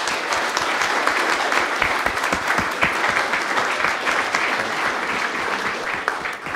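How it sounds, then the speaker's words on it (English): Conference audience applauding a discussion panel at a digital government event, a steady, dense round of clapping that fills the room for several seconds without a break. "give all our panellists, and Mike in particular, a big round of applause"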